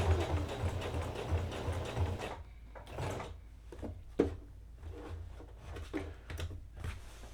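Sewing machine stitching patchwork teddy bear pieces onto clothes, running in a steady close mechanical whirr for a couple of seconds and then stopping, followed by quieter intermittent handling noises as the fabric is turned.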